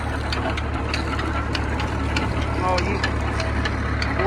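A new tractor-driven sugarcane juicer machine, powered by the tractor's shaft, runs with a steady, droning engine hum and faint rhythmic knocking, constant and close throughout.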